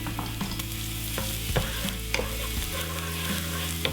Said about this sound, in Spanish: En una sartén a fuego medio ponemos un poco de aceite. Añadimos solo la mitad de los ajos.